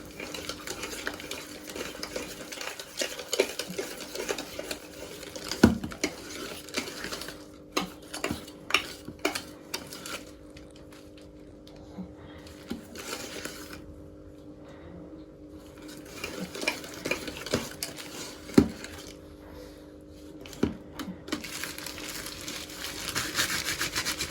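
Chocolate cupcake batter with a few drops of vanilla essence is stirred and scraped in a bowl, giving a steady run of soft rubbing and clinking strokes with occasional sharper knocks, close up and with no talking.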